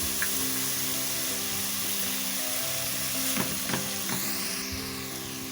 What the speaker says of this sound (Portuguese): Vou acrescentar a cúrcuma.